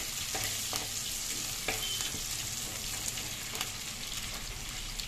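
Gulivindalu frying in oil in a pan before onions go in: a continuous, even hiss of sizzling with occasional sharp spatter pops and light scrapes, fairly close and moderately quiet.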